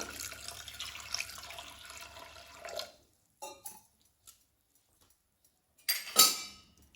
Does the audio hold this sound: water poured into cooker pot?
yes